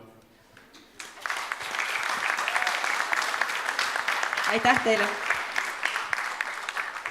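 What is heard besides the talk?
audience applauding teachers at school Christmas party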